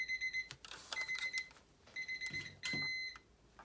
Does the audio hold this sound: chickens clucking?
no